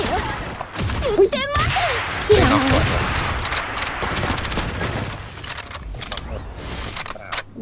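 Gunfire in the Alborada shooter game: several sharp, loud shots and impacts scattered through the clip over a busy game soundscape, with people talking over it.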